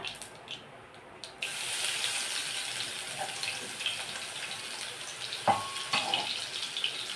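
Crushed garlic and a pinch of asafoetida hit hot oil in an iron kadhai, giving a steady hiss of sizzling that swells after a quiet start, with a few sharp clinks of a spoon near the end.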